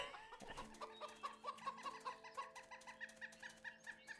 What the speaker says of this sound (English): It's a stupid chicken.